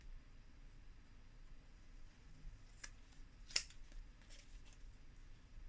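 Scissors snip the corners of paper pockets for a handmade scrapbook album, a few faint, crisp cuts close by in a quiet room, the sharpest one standing out in the middle.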